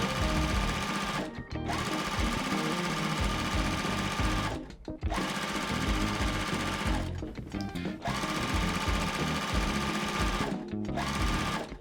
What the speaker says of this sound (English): I'm gonna be sewing on both sides of the line to make my half square triangles